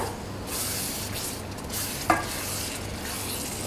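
Spicy prawns with tempoyak and petai are stirred in a pan, a soft continuous sizzle with scraping strokes and one brief sharp utensil clink midway.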